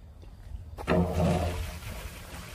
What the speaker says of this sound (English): Yeah, that's moving some water.